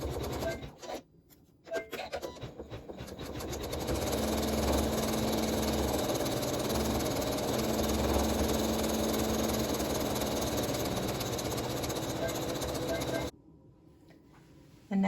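An embroidery machine stitching red thread in a satin stitch around the outside of a Dresden appliqué on a pincushion runs as a steady mechanical hum and rapid whir, starting after brief handling noises and stopping abruptly near the end.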